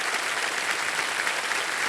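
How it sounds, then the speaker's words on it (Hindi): Loud, dense applause from a game show studio audience, steady and sustained throughout with no voices on top. "इसके लिए जोरदार तालियां।"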